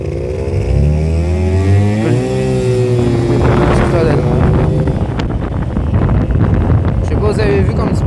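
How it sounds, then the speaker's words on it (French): A drag scooter launches at full throttle, its engine revving up in rising sweeps before giving way to heavy wind buffeting on the microphone, loud and close. "je vais vous le décoller en scooter de drag ici"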